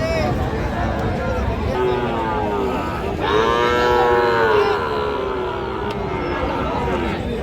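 Sahiwal bull calves moo repeatedly at a busy cattle market, with several long, drawn-out calls close by, overlapping with people talking and crowd babble.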